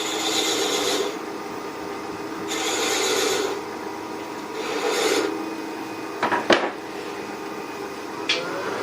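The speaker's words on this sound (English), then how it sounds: "just use the toe of the skew, put a line in there" A skew chisel's toe scores a line into spinning wood on a lathe, giving a few raspy scraping passes with short sharp ticks near the end, close and moderately loud.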